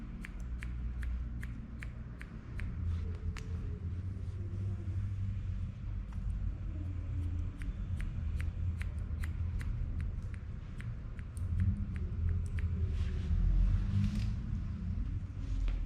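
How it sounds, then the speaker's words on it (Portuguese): Scissor tips snipping long curly hair in a salon, a run of sharp, quiet clicks in an irregular rhythm over a low background rumble. "trabalho somente com a ponta da tesoura."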